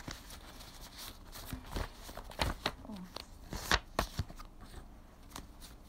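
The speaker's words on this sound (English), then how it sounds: "Let me shuffle the cards." Playing cards being shuffled in a few quick riffling bursts, close and moderately soft, with rustling and taps between.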